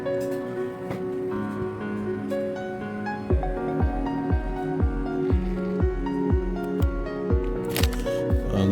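A small motor in an automated supply dispensing machine whirs and clicks in a steady repeating rhythm as it pushes an item down, close and fairly loud.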